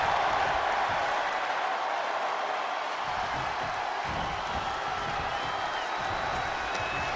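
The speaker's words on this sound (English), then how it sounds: "A deafening cheer from the WWE Universe is reverberating around us." Roaring arena crowd cheering in the WWE 2K24 wrestling video game, a steady dense wall of applause and cheers filling the whole stretch at constant loudness.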